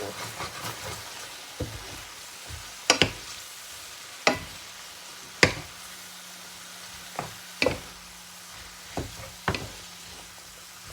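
Rice noodles with chicken and egg sizzle in a hot pan while a spatula scrapes and knocks against the metal at irregular intervals during stir-frying.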